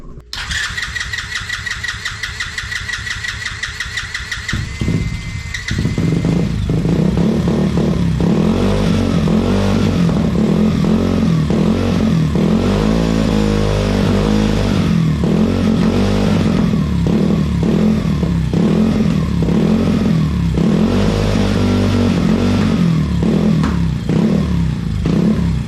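A pit bike engine mounted on a homemade engine stand, with a welded-up exhaust, cranks and catches after a few seconds of whirring. It then runs loud and steady at a fast, rough idle with slight fluctuations.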